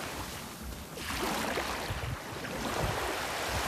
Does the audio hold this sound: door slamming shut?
no